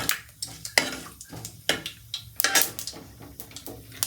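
Tempering seeds (laiya) roasting in hot oil in a pan for an amaranth greens dish, with repeated sharp metallic clinks and crackles of seeds popping against the pan, spaced irregularly over a faint background hiss.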